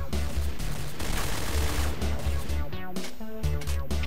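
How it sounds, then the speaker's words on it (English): Rapid automatic SG550 rifle fire in the video game Point Blank, a steady rhythmic stream of sharp punchy shots in quick bursts, loud and up close with no talk. "I'm using for the first time this gun, the SG550 S."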